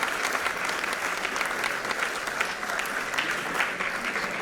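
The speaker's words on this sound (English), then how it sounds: "we can continue the clapping for the guest of honor, Dr. Raj Singh." Audience applause fills a hall at a business school convocation ceremony, dense and steady clapping from a large crowd that continues evenly throughout with no speech over it.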